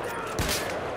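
A sniper rifle shot in Battlefield 4 rings out amid constant background gunfire, a single brief crack within a loud, noisy battlefield mix with a voice faintly present.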